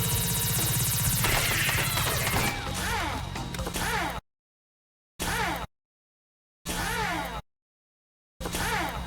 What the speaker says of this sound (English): listen to the Morita fire